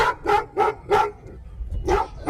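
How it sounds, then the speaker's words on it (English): A dog barks five times, loud and close, in a steady rhythm of sharp woofs with a short pause before the last bark. "Yes, it is a dog."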